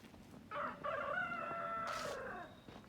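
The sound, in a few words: rooster crowing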